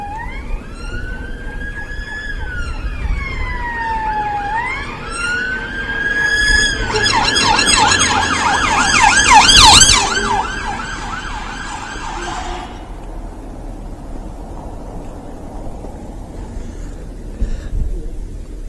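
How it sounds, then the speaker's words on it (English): A loud, close police car siren wails up and down, then switches to a rapid yelping warble before cutting off, leaving faint traffic ambience, near Wapping Marine Police Station. "Is that police or is it an ambulance car?"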